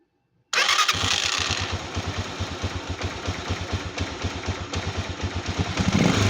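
A Motoposh 155 motorcycle engine fitted with a replaced starter motor cranks and fires after silence, then settles into a close, loud, rhythmic idle chug that picks up slightly toward the end.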